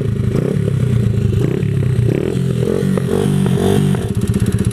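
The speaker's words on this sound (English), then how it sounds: "at least you guys get to see my running pocket bike with the Honda engine" A 127cc X7 pocket bike fitted with a Honda engine runs steadily close by in the Philippines, its loud, buzzy idle mixed with mechanical clatter and rattles and no voices.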